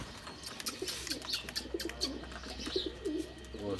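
Fighting pigeons give repeated low, throaty coos, close by and fairly soft, with faint chirps and brief rustles around them.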